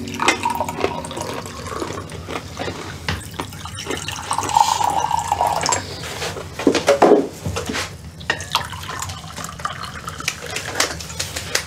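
A drink is poured at home, with liquid splashing steadily into a glass or cup for several seconds. A few clinks and shifts in the flow can be heard, and there is no talking.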